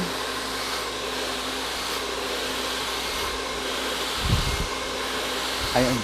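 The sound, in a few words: hair dryer blow drying curly hair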